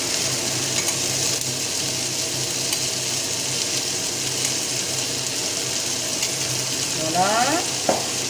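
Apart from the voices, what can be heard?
stirring the cannelloni filling with béchamel in a pan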